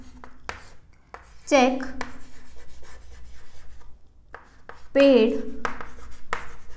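Marker strokes on a board during an accounting lesson, two short squeaky scribbles and some lighter taps, close and clear, while someone talks throughout.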